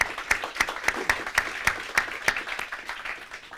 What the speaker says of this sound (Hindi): एक बार जोरदार तालियां बजा करके जरा हौसला बढ़ाइए